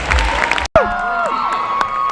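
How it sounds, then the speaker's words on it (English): Applause and some cheering rise from an audience honoring contestants at a ceremony, loud and close; the clapping cuts out for an instant, then resumes with a voice speaking over it. "Please, let's give them another round of applause."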